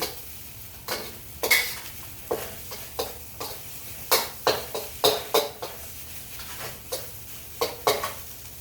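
Cooked rice is tossed with eggs in a hot pan for egg fried rice, a spatula scraping and clanking against the metal in irregular strokes over a soft sizzle, close and fairly loud.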